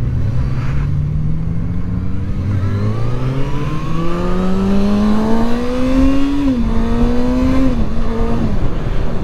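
A Kawasaki ZX-4RR motorcycle engine accelerating hard and up close, its pitch climbing steadily through the gears with a few quick shift dips. The whine is loud and continuous, with no voices over it.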